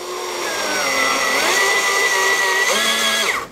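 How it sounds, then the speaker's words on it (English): A power drill with a countersink bit bores into the wooden side of a bookcase shelf, a steady loud whirring whine that shifts pitch slightly as it bites, close up and alone. "A drill with a countersink."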